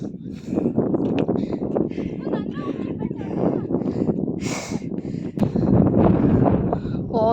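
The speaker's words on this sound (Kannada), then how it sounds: "ಓ ಎಷ್ಟು ಗಾಳಿ ಬರು." Strong wind buffets the microphone at a foggy hilltop viewpoint, Kyatanamakki hill point, as a loud, steady rush beneath people talking throughout.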